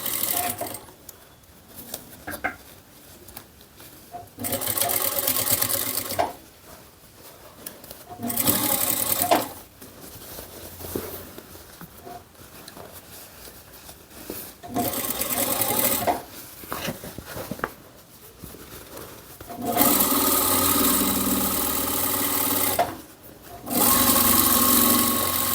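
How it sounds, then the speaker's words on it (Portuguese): Sewing machine stitching a fabric tote bag lined with EVA foam, running in repeated bursts of a few seconds each separated by quieter pauses, close and loud. "eu preciso empurrar o EVA porque ele agarra no dente da máquina"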